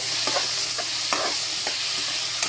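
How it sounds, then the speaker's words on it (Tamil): Chopped tomatoes sautéing in a pan for mutton biryani, a steady close sizzle with repeated scraping stirs of a spoon through the mixture, no voices. "இப்போ கட் பண்ணி வச்ச தக்காளி பழம் போட்டுக்கலாம் அது நல்லா வதங்கட்டும்"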